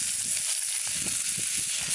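Miso-glazed salmon fries skin-side in a hot pan just after being flipped, giving a loud, continuous, even sizzle that hisses without pause from start to finish.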